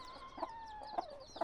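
A hen clucks in a short series of three soft, evenly spaced clucks, faint and somewhat distant, with a steady tonal background beneath and no talking.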